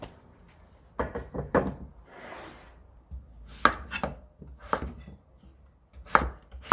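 Young radish (yeolmu) being chopped into small pieces on a cutting board for water kimchi: close, crisp knife strikes in quick clusters of several chops, with short quiet pauses between bursts.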